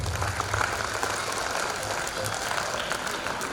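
An audience at a Siregar Siagian clan gathering claps together, a steady dense wash of applause with faint voices mixed underneath.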